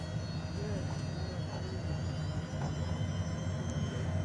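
A HondaJet's engines drone steadily with a broad low rumble and a high whine as power is added for a taxi turn, heard from inside the cockpit at an even, loud level.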